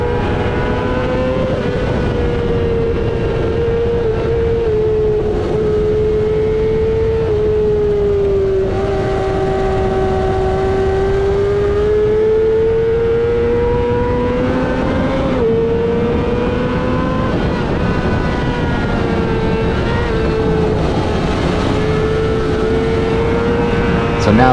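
Rider 58's racing motorcycle in a CVMA amateur middleweight race screams at high revs alongside the recording bike, its steady loud engine whine rising and falling in pitch as the pass is made.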